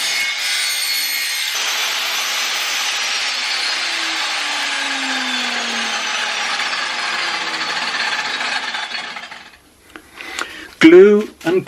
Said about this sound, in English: Cut the 3mm ply at the final width of the strip light minus about